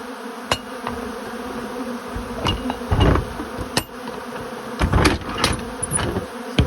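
Loud, dense buzzing of many honeybees nearby during heavy robbing in a nectar dearth, punctuated by several sharp knocks and taps, with no one talking.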